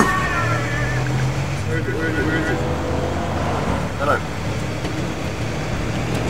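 A vehicle drives in Battlefield 3 on the Caspian Border map, its engine a steady loud drone with tonal whine over rumbling road noise throughout, while players talk over it and one brief bang lands near the end.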